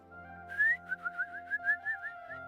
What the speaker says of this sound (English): Sounds like he's trying to whistle a dog.